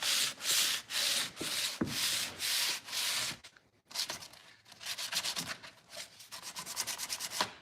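Hand sanding a painted wooden table: rhythmic back-and-forth scraping strokes, close and crisp, pausing briefly midway before resuming in quicker, shorter passes.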